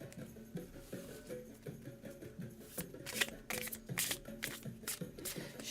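A deck of cards is riffled and shuffled close up during a card reading, a quiet run of soft flicks and repeated papery bursts with small taps between them.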